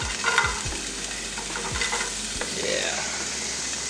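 Chopped vegetables tumble into a stock pot for turkey chili, with a few low thuds followed by soft sizzling and stirring.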